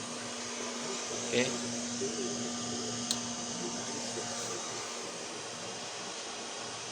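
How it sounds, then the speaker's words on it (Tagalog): An electric fan powered through a solar inverter whirs as a steady broadband drone with a constant low hum, while a voice briefly speaks over it. "Tingnan natin kung sasabay niya electric fan gamit to."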